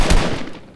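A single sharp sniper rifle shot from a video game, a loud broadband crack near the start with a short decaying tail fading over the following moment.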